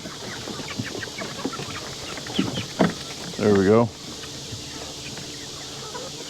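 Backyard chickens, roosters among them, cluck in short scattered calls close by, followed by a louder drawn-out squawk, with someone speaking briefly over the flock.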